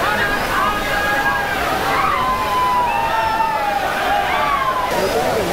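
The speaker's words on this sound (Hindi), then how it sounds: "ये है कैंपटी वाटरफॉल, ऊंचा सा झरना आपको दिख रहा है देखो" Kempty Waterfall, a tall cascade in the hills near Mussoorie, roars steadily as a constant broadband rush of falling water with people bathing below, while a voice narrates over it throughout.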